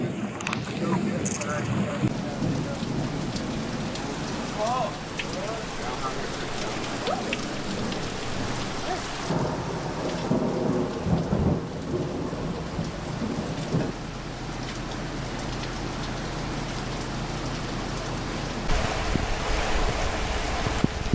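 Steady heavy rain pours down with low rumbles of thunder rolling underneath, and muffled voices talk faintly in the background.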